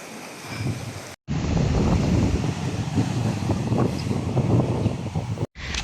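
Surf breaks steadily along a seaside roadside shore, a continuous rushing wash of waves mixed with gusting wind buffeting the microphone, with no talking.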